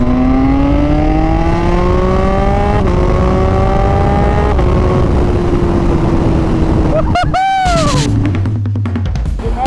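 A Yamaha R1 motorcycle's engine note climbs steadily, then the bike sweeps past close by with a sharp pitch drop and roar before fading away.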